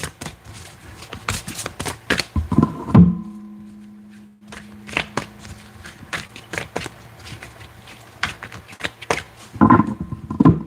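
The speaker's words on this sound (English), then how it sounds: "I'm going to shuffle all these cards" Tarot cards get shuffled by hand in crisp, riffling bursts, with soft taps and thumps as the deck is handled and squared between shuffles, close and clear.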